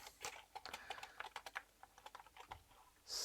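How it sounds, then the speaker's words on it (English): Close, quiet clicking of keys being typed on a mechanical keyboard, irregular quick keystrokes in a short burst with a slightly louder thump at the end. "Some mechanical keyboard."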